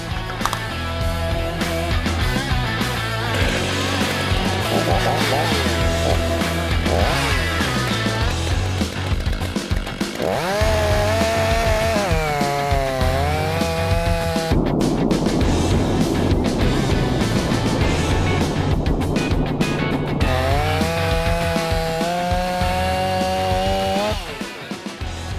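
A chainsaw runs at full throttle, cutting into chainsaw protective trousers. The engine roars loud and close for the whole stretch, with pitch sweeps as the load changes and the chain bogs down.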